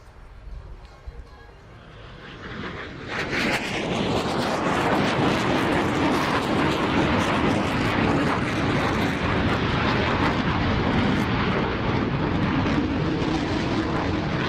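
A jet roars at full afterburner during a display at the Cosford airshow. The sound builds from a distant rumble into a loud, sustained, rushing thunder that fills the rest of the clip.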